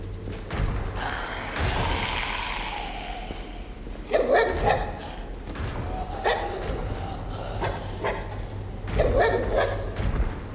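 Corgi barking in the virtual-reality zombie game Arizona Sunshine 2, a few short woofs and yips at around four, six and nine seconds, close and moderately loud over steady game ambience and a low hum.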